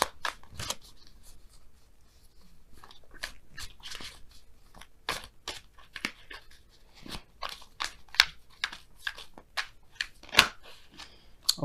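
Tarot cards are shuffled and drawn by hand, a close, quiet run of crisp flicks and riffling snaps in an irregular rhythm, with no talking.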